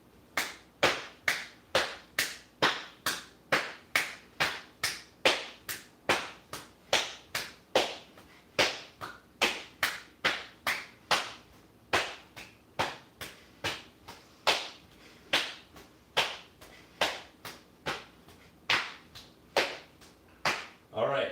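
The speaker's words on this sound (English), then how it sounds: "I want to hear the clap on the thigh and on the hands up top." Sharp, evenly paced claps, alternating between slaps on the thighs and claps with the hands overhead, during an at-home parkour workout. Each smack is crisp and close, repeating about once or twice a second for the whole stretch.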